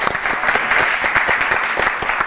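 Audience applause at a live Balkan hits music show: dense, continuous clapping that stays fairly loud and close for the whole stretch, with no voices over it.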